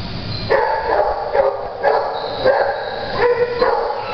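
A two-year-old, 40-pound female pointer mix barks in a steady run of sharp, fairly close yaps, one roughly every half second to second, with no talking.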